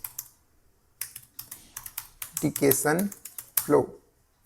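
Rapid keystrokes on a laptop keyboard as a command is typed, clicking in irregular bursts up close, with a voice talking over part of the typing.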